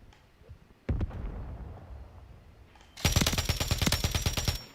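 Pulemyot 762 machine gun in Call of Duty Modern Warfare III: a sharp burst near 1 s, then a loud, sustained stream of rapid rattling automatic fire from about 3 s to the end, close and dominant over the game ambience.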